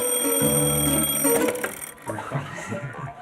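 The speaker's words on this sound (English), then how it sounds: "Number 6, an alarm clock." An alarm clock rings with a loud, rapid metallic trill for about a second and a half, then stops abruptly, leaving quieter background sounds.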